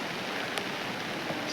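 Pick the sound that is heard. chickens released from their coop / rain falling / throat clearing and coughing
rain falling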